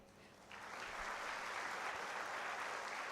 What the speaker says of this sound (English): let's fill this hall with applause and encouragement for all our participants.